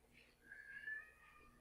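A house cat gives a single drawn-out meow, faint and mid-distance, against a quiet indoor background.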